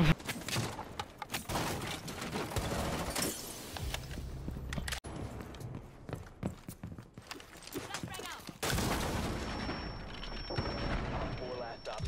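Gunfire bursts and impacts crackle through a Rainbow Six Siege match, loud sharp shots and booms coming in irregular clusters under excited talk.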